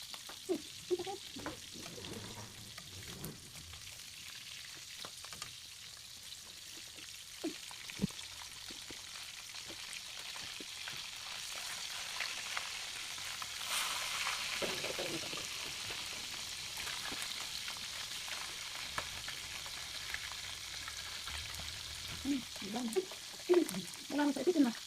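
Steady frying sizzle of fish steak in hot oil, with crackles and pops scattered throughout and a few brief clinks and murmurs in the background.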